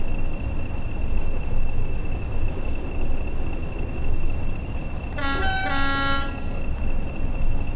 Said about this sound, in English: That horn is pretty loud because you only hear it through one side